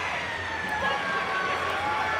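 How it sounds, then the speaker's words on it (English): A long, steady half-time siren wails at a rugby league match between the Eels and the Warriors, sounding continuously through the stadium with a commentator talking over it. "There is the siren."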